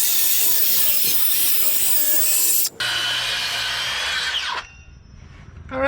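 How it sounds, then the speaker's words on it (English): Table saw making repeated rip cuts in wood for a wooden boat restoration, a loud close whine while cutting, a brief pause, then a second pass before the blade spins down. "keep making subsequent rips with the blade, with the guide moved over"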